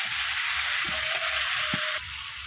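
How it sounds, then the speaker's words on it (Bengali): Shrimp, ridge gourd and potato fry together in a pan over a fierce wood-fired clay stove, a dense continuous sizzle with a couple of soft stirring knocks, close and fairly loud. "চিংড়ি মাছ, ঝিঙে, আলু খুব সুন্দর করে একসাথে কষিয়ে নিতে হবে।"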